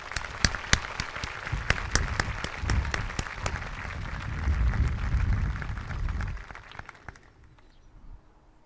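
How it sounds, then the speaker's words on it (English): A school audience applauds graduating seniors at a 2021 awards ceremony, with crisp individual claps up front building into a fuller, rumbling ovation that fades out near the end. "Let's give them a round of applause."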